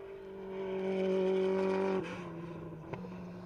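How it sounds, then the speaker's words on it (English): A Saleen Cup race car engine drones steadily, then the tone drops abruptly with a sharp turbo wastegate release, followed by a lower idle and another quick puff. "You can hear that wastegate blow."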